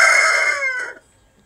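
A rooster crows loudly and close in an African village, a single drawn-out crow fading after about a second, with faint hen clucking trailing behind it.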